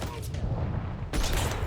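Pistol gunfire in the James Bond First Light video game comes as a brief burst of rough, crackling shots with a second blast of noise near the end, dense and loud within the short span.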